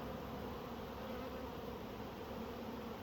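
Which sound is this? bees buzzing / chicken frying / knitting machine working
bees buzzing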